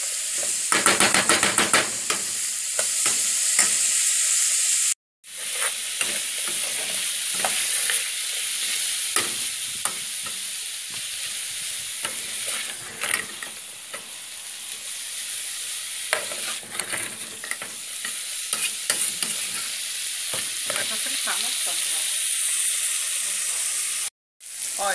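Ingredients for potato soup with calabresa sausage and bacon fry in a pan, giving a steady, close sizzle with intermittent scraping from stirring, broken by two brief silences.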